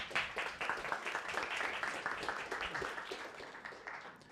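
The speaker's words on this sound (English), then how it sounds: "So big round of applause again." Dense, continuous applause from an audience after a programming meetup talk, many hands clapping at once at moderate distance for several seconds.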